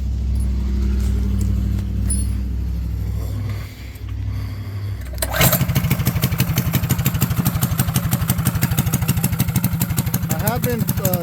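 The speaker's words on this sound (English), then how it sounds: "Let's go ahead and fire her up," A mini bike's small engine, fitted with a new clutch, gas tank and governor mod, fires up partway through after a quiet stretch, then runs with a fast, even, loud putter up close.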